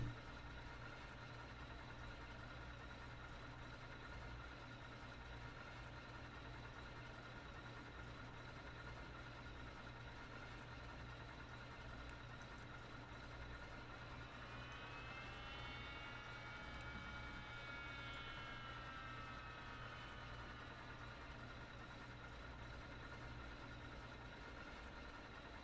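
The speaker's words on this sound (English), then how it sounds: "Center starter engaged." In Microsoft Flight Simulator, the center engine of a Ford Trimotor is cranked for a cold start, a steady low droning whine with a rising and falling inertia-starter tone partway through, no talk.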